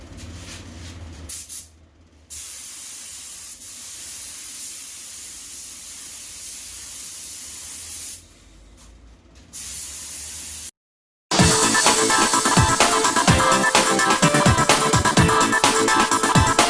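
Aerosol spray paint hisses steadily while applying a second coat to car taillights, with a couple of short pauses and a louder, harsher burst of spray toward the end.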